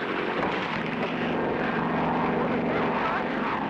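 Seaplane engine droning steadily in flight in an animated adventure, a continuous propeller roar heard alone at an even level.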